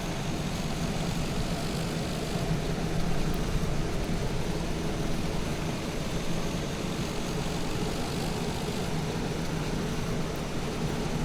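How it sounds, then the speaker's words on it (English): Both engines of a twin-engine airplane run as a steady, loud, unbroken droning roar that holds at an even level throughout with no voices. "we've got two good engines running"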